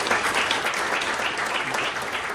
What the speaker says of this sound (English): One more round of applause for Sean